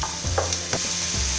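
Onions with green and red chilies frying in olive oil, a soft continuous sizzle with faint stirring scrapes, close and alone without talk.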